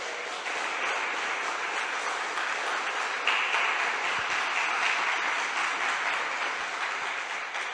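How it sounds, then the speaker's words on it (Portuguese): A church congregation claps during an evening service, producing a steady, dense roar of many hands that stays even in loudness throughout, with faint voices beneath. "Dá um louvor de palmas para o Senhor nessa noite."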